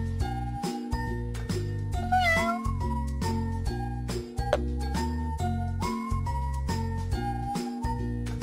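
Small cartoon kitten stuck in a tree meows in a children's pet care game, a brief rising mew in the middle over continuous upbeat looping game music with tinkling notes.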